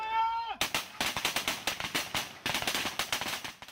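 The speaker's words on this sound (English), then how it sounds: "This is the American M16 assault rifle, used by the mercenary forces on the film." An American M16 assault rifle fires blanks on a film set in rapid bursts of sharp, loud reports. A short tonal sound comes first, then the shots come in fast clusters with brief gaps between them.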